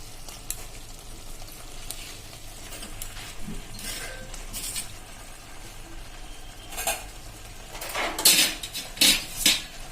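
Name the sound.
mixing boiled macaroni pasta into gravy in a pan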